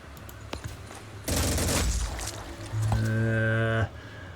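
Phoenix Point video game gunfire: a sharp burst of shot hits at close range, followed by a droning tonal electronic effect, with a couple of faint clicks just before the shots.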